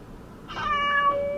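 A cat meows clearly in a radio advert, a few drawn-out tonal cries over a low background bed, close and fairly loud.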